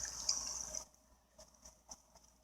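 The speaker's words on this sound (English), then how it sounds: "at least we got a sink, right? Water actually comes on." Water from a sink tap in Animal Crossing New Horizons, a soft hissing stream that runs briefly and then stops, followed by a few faint scattered game sounds in near silence.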